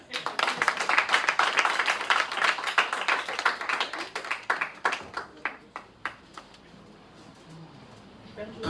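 A church congregation clapping together in a steady rhythmic beat, loud and full at first, then thinning out into a few scattered claps as the applause fades, with voices calling out underneath.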